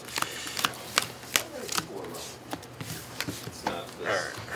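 Playing cards shuffled up close during a Magic: The Gathering match, a run of quick crisp riffles and soft flicks in uneven bursts, with a person talking.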